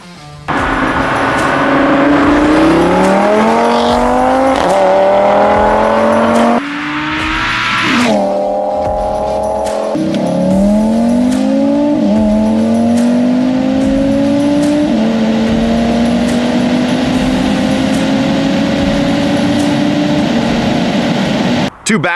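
An Audi RS3 fitted with an aero kit accelerates hard through repeated gear changes, its engine note climbing and dropping at each shift, loud and close across back-to-back runs.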